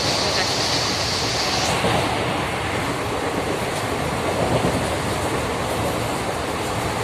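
A nearly empty passenger train rolls along with a steady, loud rushing roar of wheels and wind blowing in, continuous throughout with no clear talk.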